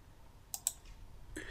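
Two quick, faint computer mouse clicks in software, close together and quiet against a low background hiss.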